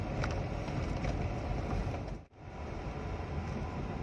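A Peugeot 306 with a SOHC petrol engine idles steadily with a slightly rough, sewing-machine-like hum, interrupted by one brief dip partway through.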